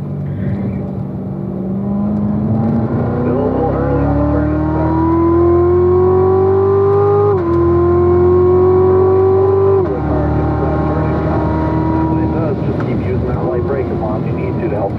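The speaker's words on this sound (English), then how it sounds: "A little throttle here in the middle, lift off the gas, help it turn in, squeeze back to the throttle now." A race car at a performance driving school lapping a track roars loud and close. Its engine note climbs steadily, dips sharply as the throttle lifts around midway, then drops off again near the end, with an instructor's voice over it.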